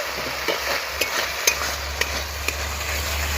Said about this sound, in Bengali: মশলাটা ভালোভাবে কষানো হয়ে গেছে, মশলা থেকে তেল ছেড়ে দিয়েছে।